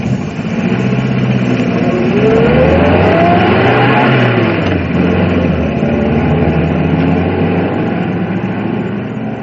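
A car engine runs loud and close, rising in a revving sweep as the vehicle pulls away, then settling into a steady driving drone that holds on to the end.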